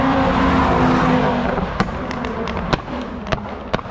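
Exhaust backfires from an Audi TT RS at a pre-official run event on Réunion, a series of sharp loud pops and cracks from about two seconds on, irregularly spaced, over steady engine and crowd noise.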